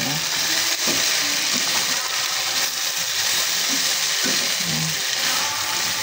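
Garlic and onion sautéing in a pan give a steady, loud, close sizzle with a dense hiss that runs unbroken the whole time, plus a few soft low knocks from stirring.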